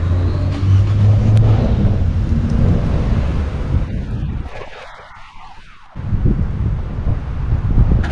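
A car is driven under cover into a farm shed ahead of an approaching hailstorm, its engine rumble loud and continuous, steady at first, then briefly fading before returning amid gusty wind.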